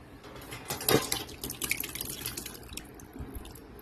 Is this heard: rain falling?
no